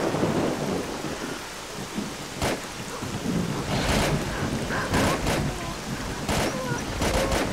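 Steady, heavy rain pours throughout in the game S.T.A.L.K.E.R.: Call of Pripyat, punctuated by several sharp crackling bursts like thunder or splashes, with no voices.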